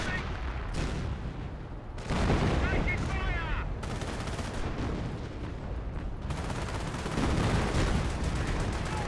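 Dense gunfire and booming artillery barrage from a Company of Heroes 1 battle, with rapid machine-gun bursts and heavy blasts overlapping continuously, under a commentator's voice.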